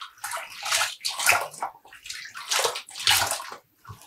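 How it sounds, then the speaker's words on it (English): Yarn is dunked into dye water, giving a run of splashy sloshes and drips that rise and fall in irregular bursts, close and moderately quiet, with no voices over them. "I'm going to be dunking it."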